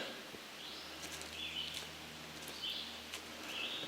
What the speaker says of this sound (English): Too many birds.